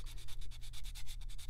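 Nail file scraping polish off a fingernail in quick back-and-forth strokes, a soft, close rhythmic rasping of about a dozen passes with no talking.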